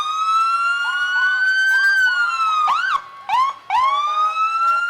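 Several emergency vehicle sirens wail and yelp together at a Christmas parade in Leesburg, loud and close, with rising and falling tones overlapping and a few quick chirps near the end.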